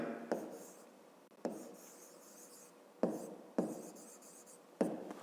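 A pen writes math on paper, producing soft scratchy strokes broken by several sharp taps as the pen lands, close and quiet with no talk.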